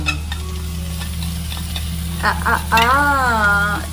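Masala spices for chicken curry sizzle steadily in hot oil while a spoon scrapes and stirs the pan, loud and close over a constant background hum, with a faint voice-like warble near the end.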